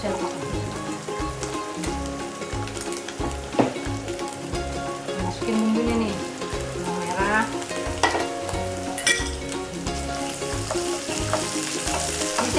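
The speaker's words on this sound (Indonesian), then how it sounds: "Minyaknya udah kurang. Kita tambah lagi buat numis." Dumpling filling ingredients sauté in topped-up oil, a loud continuous sizzle and crackle close up with scraping stirs of a spatula throughout, no voices over it.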